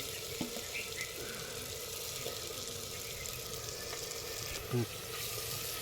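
Chopped onions and mint leaves hit fully heated oil for a village-style chicken sambar, giving a steady, fairly quiet sizzle with a couple of brief knocks.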